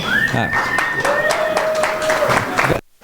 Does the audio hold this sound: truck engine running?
no